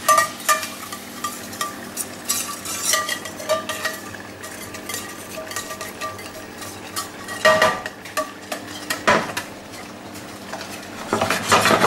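Metal utensils clink and scrape against a pan while cooking squid, with stirring and a faint sizzle, close up and steady with sharper knocks now and then.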